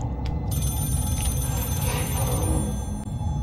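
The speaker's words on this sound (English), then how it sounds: "The phone is ringing." A telephone rings inside the Scream slasher video game, a steady electronic bell running throughout against a dense, loud game soundscape with low rumbling ambience.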